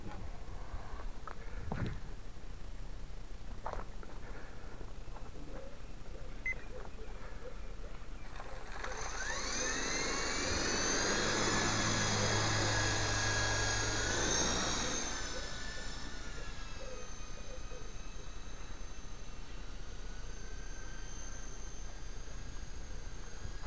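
A brushless Esky Big Lama RC helicopter flies outdoors in wind: a faint motor hum swells into a loud, high-pitched whine of spinning rotors as it passes close in the middle, then fades to a steady distant drone.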